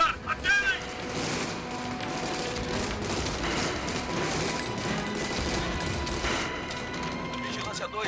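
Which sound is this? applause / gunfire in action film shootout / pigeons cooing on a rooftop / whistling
gunfire in action film shootout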